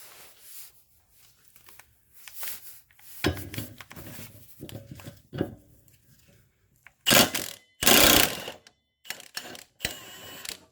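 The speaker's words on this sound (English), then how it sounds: "I'm going to remove the right side of this blade here." Metal clanks, ratchet clicks and scraping while removing the blade from a lawn mower deck, irregular bursts with quiet gaps between, close by and without speech.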